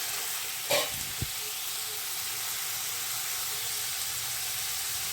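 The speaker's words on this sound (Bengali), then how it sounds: "দেখো এখন দিচ্ছি, এই যে ভেজে নিচ্ছি" Flat beans and potatoes fry in a pan with a loud, steady sizzle and hiss, broken by a couple of brief clanks as the vegetables are added or stirred, with no talking.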